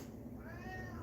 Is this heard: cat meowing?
yes